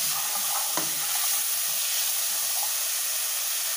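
Onion and garlic fry in a pan with paprika, giving a steady close sizzle and hiss throughout, with a brief stir or clink near the start.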